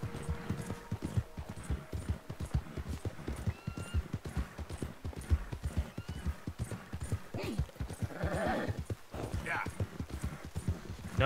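Horse hooves gallop steadily in the video game Red Dead Redemption 2, a fast continuous clip-clop rhythm running throughout with a brief whinny partway, under someone talking over the gameplay.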